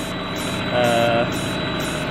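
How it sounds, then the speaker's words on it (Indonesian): A small DC motor under Arduino PI speed control hums steadily, with a brief rising whine as it speeds up toward a new setpoint, close and fairly loud. "kemudian kita enter, dan motor mengalami peningkatan kenaikan"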